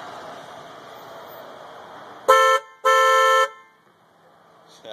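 A newly fitted, louder car horn on a Toyota FJ Cruiser sounds two close, strong honks, a short one and then a longer one, over a low background rumble.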